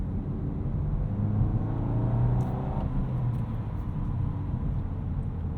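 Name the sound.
2022 Volkswagen Golf R 6-speed manual car driving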